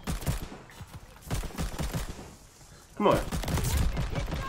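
In Call of Duty Vanguard, a DP 27 light machine gun fires rapid bursts of gunfire with brief pauses between them, while a player talks over the shooting.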